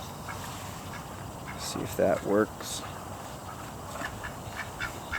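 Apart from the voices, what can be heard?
ducks quacking at a backyard duck pond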